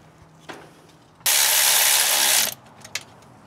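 A ratchet tightens a front-end part on a 1976 GMC Motorhome, one loud, steady burst of rapid clicking lasting about a second, with a few faint knocks before and after.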